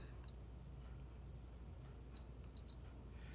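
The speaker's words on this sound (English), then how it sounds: "So when you touch the leads together, you'll hear like a tone." Digital multimeter continuity test, a loud, steady high-pitched electronic tone sounding for about two seconds, then cutting out and returning in short bursts as the leads touch again.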